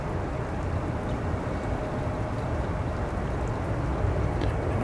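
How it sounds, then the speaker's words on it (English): Heavy rain and wind during a storm at San Francisco airport, a steady, dense broadband wash of rain and gusts that stays loud and unbroken throughout. "but I'm a little out of the wind and rain here."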